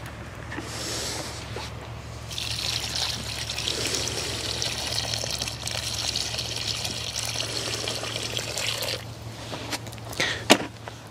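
Water pours and trickles steadily onto soil around a newly planted rose for several seconds, over a low constant hum, ending with a few soft knocks.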